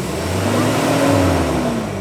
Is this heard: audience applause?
no